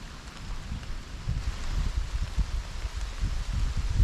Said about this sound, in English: So there's the rain.